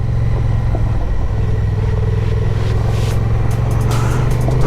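A Honda Transalp motorcycle engine drones steadily while riding on a New Zealand road, a loud continuous low hum with wind rush over it.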